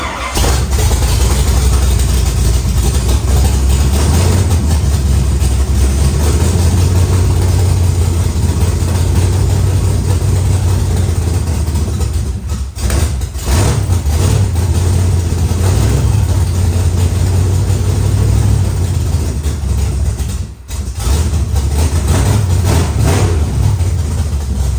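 A pure stock race car engine with a freshly replaced ignition coil idles loud and close, a steady low rumble that holds for the whole stretch, easing briefly twice before settling back.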